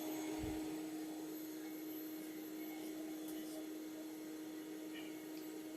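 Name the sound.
bee vacuum running during beehive removal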